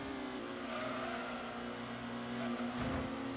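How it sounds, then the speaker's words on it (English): Race car engines from the PlayStation game Gran Turismo 1 drone steadily with a layered, buzzing tone that swells slightly near the end, heard alone without talk. "The car sounds were awesome."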